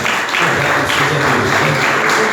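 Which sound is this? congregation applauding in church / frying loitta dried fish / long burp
congregation applauding in church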